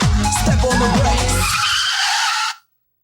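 A car brakes hard and skids, tires squealing loudly in rising and falling bursts with engine noise, then the sound cuts off abruptly after about two and a half seconds.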